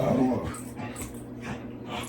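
A dog rolling around on a carpet lets out short yips, whimpers and barks amid rustling, fairly close, with no clear talking over it.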